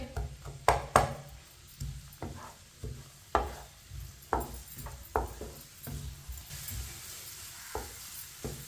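Finely chopped onion is stirred in a hot pan for Chinese kababs, a soft steady sizzle broken by repeated close spoon taps and scrapes against the pan, with no voices.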